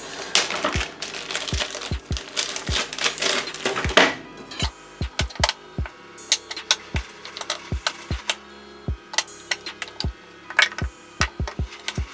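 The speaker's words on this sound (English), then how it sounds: "So now I'm going to go ahead and cut up the white soap" A knife chops through a block of white melt-and-pour soap, first a rapid flurry of close cuts, then sharp separate thunks against a board at an uneven pace.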